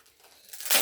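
Temu sticker sheet package torn open, a short crinkly rip of plastic packaging that swells louder toward the end.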